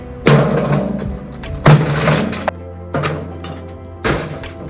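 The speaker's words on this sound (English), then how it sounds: "Once the glass is smashed, we collect them in these containers" Glass bottles are smashed for recycling on a remote off-grid island, heard as four loud, sharp crashes spaced about a second apart, each followed by tinkling shards settling.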